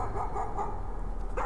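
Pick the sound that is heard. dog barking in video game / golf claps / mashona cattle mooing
dog barking in video game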